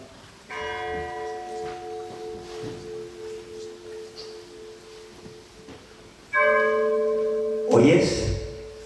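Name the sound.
church bells tolling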